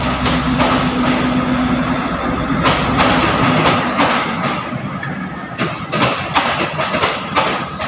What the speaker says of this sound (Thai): แต่มีขบวนรถออกมาอีกหนึ่งขบวนนะ ไม่รู้ขบวนอะไร